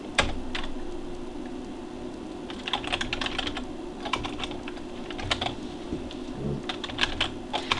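Keys clatter on a computer keyboard in short irregular bursts of quick taps with brief pauses between, close and moderately loud over a steady low room hum, with no voices.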